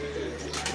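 A pigeon on a rooftop gives a brief, low, soft coo, heard close up in a single short phrase.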